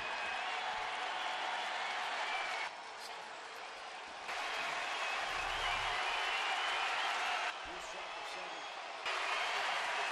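Large baseball stadium crowd in Cleveland applauding and cheering, a broad steady roar that holds for about ten seconds with a brief dip in the middle.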